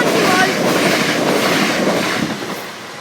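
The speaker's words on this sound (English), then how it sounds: "we've gone down for the third train of the day at Milton level crossing" A Great Northern train passes Milton level crossing, close and loud, with a steady rolling rumble and wheel clatter that fade slightly as it moves away.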